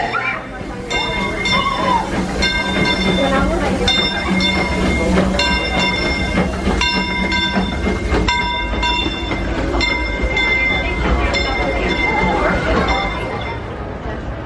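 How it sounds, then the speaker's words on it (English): The Disneyland Railroad train rolls along with a steady rumble and regular clickety-clack from its wheels, loud and close, while an announcer speaks over it. "Welcome aboard the Disneyland Railroad."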